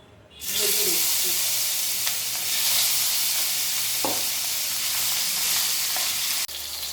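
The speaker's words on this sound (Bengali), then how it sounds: "অন্য প্যানে আমি মাছের মাথাটা ভেজে নিচ্ছি" A fish head fries in a pan, giving a loud, steady sizzle and crackle that runs nearly the whole time, with a few soft stirring clinks and no talk.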